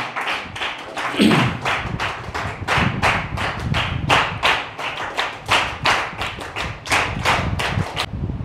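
Audience applause at a village talent recognition event in a hall, a steady burst of many hands clapping close and loud, sustained for several seconds with no voices over it.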